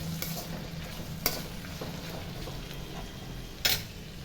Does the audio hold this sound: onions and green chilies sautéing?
yes